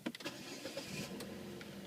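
A 2008 Saab 9-3 with a 2.0 liter turbo engine is started, giving a faint, brief starter crank and catch that settles into a quiet idle, heard alone.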